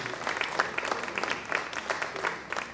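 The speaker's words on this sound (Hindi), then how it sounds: "भरपूर तालियां उमर नईम के लिए" An audience applauds a team member at a Lahore event with a dense, steady wash of clapping from a sizable crowd that carries on evenly without any talk over it.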